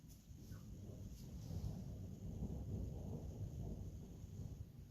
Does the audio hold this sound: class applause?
no